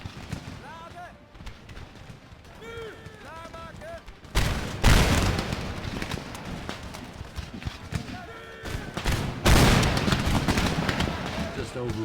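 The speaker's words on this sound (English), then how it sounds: "Want to watch some of our splendid fire by rank here." A musket volley fired by rank in the video game Empire Total War, loud massed booms bursting out in two waves after a quieter stretch of horse hooves and battlefield noise.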